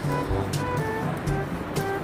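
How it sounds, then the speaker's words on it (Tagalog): Ocean waves wash continuously near a crab-gathering shore, a broad rushing surf with soft rising and falling swells, fairly loud and close, with no talk over it. "hindi masyado malaki yung alon, mga ka-ranger"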